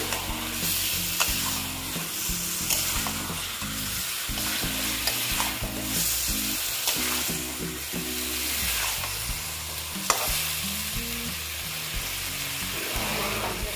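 Egg and potato curry masala sautés in a pan, a constant loud sizzle with continuous stirring and scraping strokes, close up and without voices.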